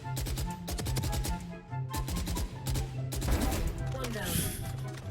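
Rapid bursts of gunfire from Valorant wall bangs, shots fired through walls in the tactical shooter, crack in quick repeated volleys across the whole stretch, loud and close with short gaps between strings.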